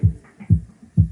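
Soft, muffled distant kick drum sample thumps three times in an even, slow pulse, deep and rounded with a faint low hum between hits, no other instruments.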